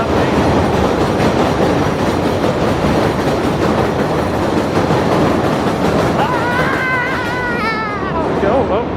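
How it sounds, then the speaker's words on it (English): A train passes close by on an elevated line in New York City, a loud continuous rumble and clickety-clack of wheels, with a squeal of wheels on the rails near the end. "Train's gone."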